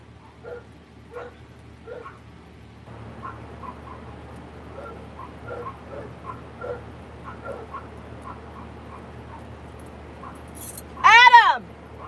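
A dog yips, whimpers and barks in short bursts at moderate distance, ending in a loud rising whine near the end, with a low steady hum in the background.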